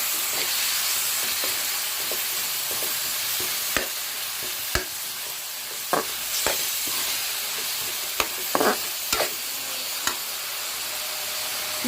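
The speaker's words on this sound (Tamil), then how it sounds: "நல்லா வதக்கிக்கலாம்." Minced mutton keema sautés in a pan with a continuous, close sizzle, and intermittent spatula clicks and scrapes grow more frequent toward the end, with no voices.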